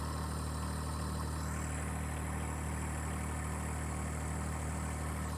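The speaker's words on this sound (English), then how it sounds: "The tractor is at idle." A tractor engine idles as a steady, low, even drone with a faint rhythmic throb, constant and unchanging throughout, with no talk over it.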